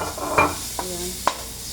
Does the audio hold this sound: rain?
no